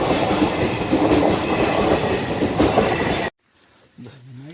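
A train passes a closed level crossing with a loud, close rumble and clickety-clack of wagons that ends abruptly, leaving quiet background with a faint rising tone.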